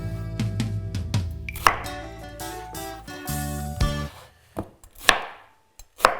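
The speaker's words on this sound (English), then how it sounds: "I'm just gonna cut this in some wedges" A Kuma 8-inch chef's knife cutting vegetables into wedges on a board for sheet pan roasting, a run of crisp close chops and thuds with scattered later cuts and pauses between.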